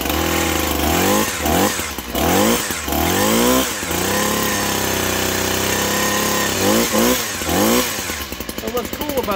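A STIHL HS82R gas hedge trimmer engine warms up after a crank start, running loud and close with repeated revs and falling pitch sweeps, and a person talks over it.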